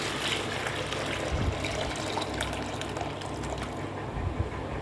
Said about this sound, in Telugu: ఇందులోకి మళ్ళీ వాటర్ ఇందులో పోసుకోవాలి